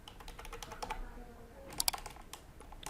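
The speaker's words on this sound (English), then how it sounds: "now type a new password here" A computer keyboard being typed on to enter a new password, a quick run of light, close keystroke clicks with a couple of sharper taps over a faint background hum.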